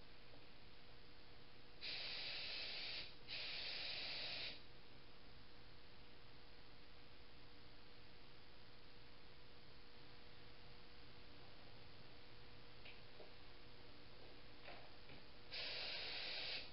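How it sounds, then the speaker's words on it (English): Spray gun laying a light first coat of clear coat on a race car: short hissing bursts of spraying, two close together early and another near the end, over a steady background hum. "Alright guys, here we go on the first coat. Gonna be kind of a light coat."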